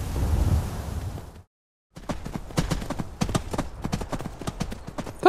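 The horse Frost being ridden in the video game Skyrim, with a rapid run of crisp, close hoof clip-clops following a heavy rumbling gallop that cuts out for a moment.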